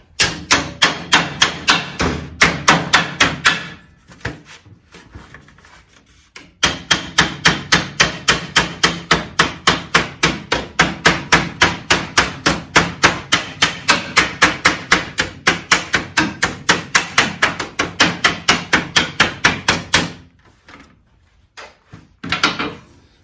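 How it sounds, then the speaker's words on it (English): A hammer taps the edge of a square metal piece in rapid, evenly spaced strikes, dozens in long runs broken by a couple of brief pauses, close and loud. "I'm just going to use my hammer and just tap that"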